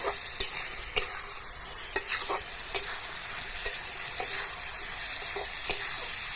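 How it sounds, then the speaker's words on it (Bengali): Masoor lentils stirred and frying in a pan while preparing a pui shaak dish: a steady sizzle carries on throughout, with eight or so sharp scrapes and taps of the spoon against the pan at uneven intervals, close and fairly quiet. "মসুর ডালটা দিয়ে দু একবার নাড়াচাড়া করে আমি পুঁইটা দিয়ে দিব"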